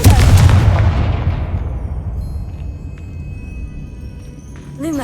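A Confringo fire-blast spell cast in the Hogwarts Legacy video game: a loud booming burst that opens the clip and fades away over several seconds, with faint game effects near the end.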